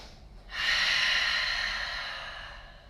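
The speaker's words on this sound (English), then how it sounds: "big, loud, noisy breath" One big, loud, noisy breath during a yoga downward-facing dog pose, a sudden rushing exhale that swells up close, then slowly fades without any talking.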